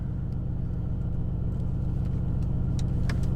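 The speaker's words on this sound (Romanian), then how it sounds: "mașina e deja încălzită, uleiul și din cutie de viteze și din motor sunt deja la temperaturi optime de funcționare" A Mercedes-AMG C63 S engine, warmed up, holds a loud, steady, deep rumble with a throbbing low pulse. It stays close and unbroken, with no talking.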